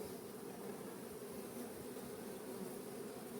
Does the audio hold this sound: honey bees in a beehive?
yes